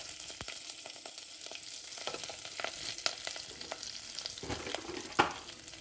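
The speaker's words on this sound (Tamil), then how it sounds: "கடுகு கொஞ்சம் வெடிக்கட்டும்" Mustard seeds splutter and pop in hot oil in a steel pan, a crackling sizzle dotted with sharp bursts of popping, close and unbroken throughout, with no talk.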